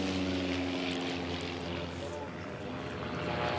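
Racing biplanes at the Reno Air Races roar past a pylon, a loud, steady propeller-engine drone with layered harmonics that holds throughout, close and continuous.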